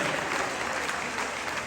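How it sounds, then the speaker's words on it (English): Audience applause at a fundraising gala, a dense, steady wash of clapping from a large crowd, close and continuous for the full stretch. "please applause, please, I love it"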